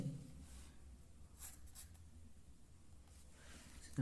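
Pen or pencil writing in a school workbook, with soft, faint scratching strokes coming in short bursts over quiet room tone and no talking.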